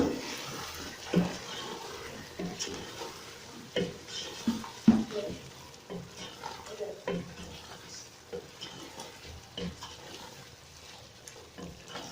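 Spices and cumin being stirred into a chicken biryani mixture in a pot, a steady rhythm of scraping and clinking spoon strokes over a soft continuous sizzle, close by with no talking.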